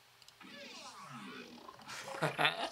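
Gritty modular synth bass percussion one-shots with sweeping, wobbling tones, growing louder and denser toward the end, played alone without talking.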